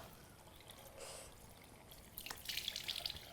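Water runs and splashes faintly as a face is rinsed after using a facial brush, with soft dripping and a louder burst of splashing near the end against a quiet room.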